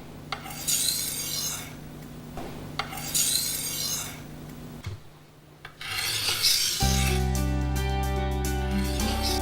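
A kitchen knife blade is drawn repeatedly across a sharpener in close, gritty rasping strokes, a few passes at a time, with a brief pause before a final tonal, ringing scrape.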